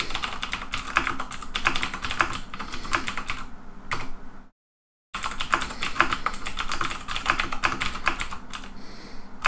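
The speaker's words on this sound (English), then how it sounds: "Typing." Rapid clattering keystrokes on a computer keyboard, typed in quick bursts for several seconds, broken by a brief silent gap before the typing resumes, close and clear with no voices.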